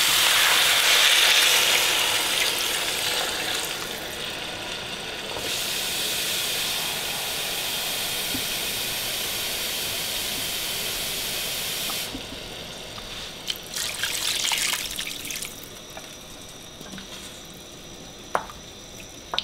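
Water pours into a pot of tzimmes (meat over sweet vegetables) with a continuous hissing, splashing rush. It then softens, and a few small clinks follow near the end.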